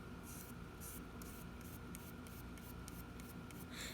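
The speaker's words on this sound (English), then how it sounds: "And then we're just going to brush that across the paper." Soft, dry brush strokes carrying watercolour reinker scrape across paper in a quick series of short swishes, quiet and close.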